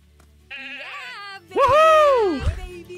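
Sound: sheep bleating in a video game

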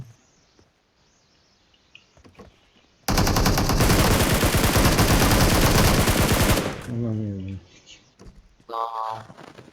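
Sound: gunfire in video game PUBG Mobile

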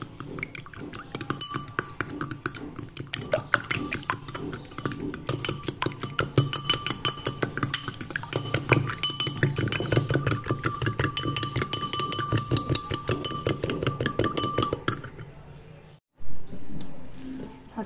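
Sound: mixing kebab mixture with salt and chili

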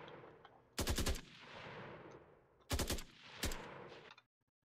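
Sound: assault rifle gunfire in Unreal Engine 5.1 FPS video game

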